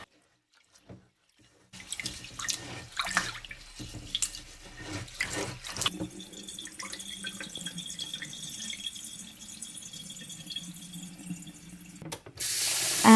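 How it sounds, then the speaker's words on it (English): Idli rice being rinsed in water in a home kitchen: sloshing and splashing of grains and water, drips, then a running tap filling the vessel, close and moderately loud with no talk. "So I'm giving a couple of washes to the rice until the water is clear."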